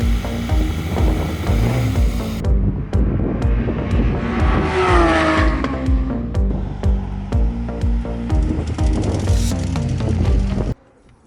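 A second-generation Porsche GT3 RS with a naturally aspirated engine roars loudly on a racing circuit, its pitch climbing and dropping through rapid upshifts as it passes close by, with a loud continuous wail throughout.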